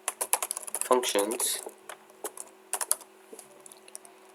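JavaScript code typed on a computer keyboard for a Discord bot, with rapid close clicks in bursts and a brief stretch of speech over them.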